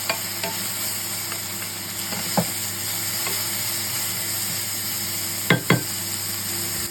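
Chicken with ginger, garlic, black beans and chilli is stirred in a hot pan, with a constant frying sizzle and a few sharp scrapes and clinks of the utensil against the pan.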